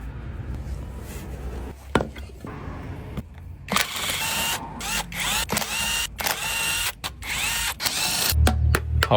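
Power tool zipping screws out of an electric tricycle's differential housing, giving several short loud whirring bursts with pauses and clanks between them, close up over quieter workshop handling noise.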